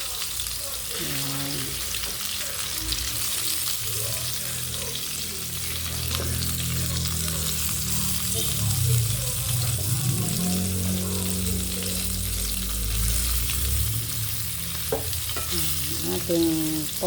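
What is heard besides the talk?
frying pork meatballs (bola-bola) in oil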